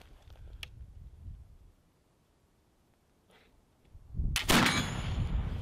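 A blackpowder flintlock rifle fires once with a loud, sharp crack, followed by a lingering rumbling boom; faint clicks and handling noises come before the shot.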